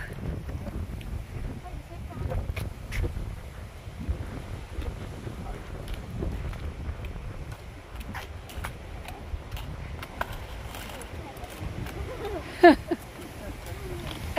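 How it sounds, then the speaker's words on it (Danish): Strong stormy wind buffets the microphone outdoors during roller skating, a steady low roar and rumble running throughout with occasional ticks and knocks, and voices faintly beneath it. "Det blæser meget stadigvæk."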